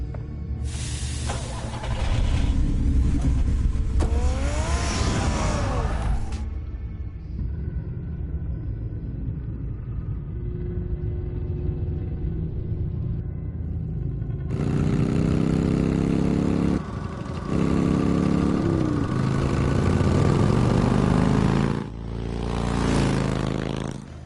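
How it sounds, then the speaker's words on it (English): The Batmobile in the Batman Telltale video game, a deep engine rumble that revs and accelerates in loud bursts, with quieter idling stretches between them. "Get the car ready, Alfred."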